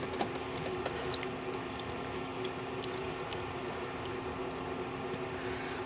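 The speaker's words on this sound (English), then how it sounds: "The potatoes are still cooking." Potatoes cooking in a pot of boiling water make a steady, moderately close bubbling and simmer with a faint continuous hum and occasional small ticks, and no one talks.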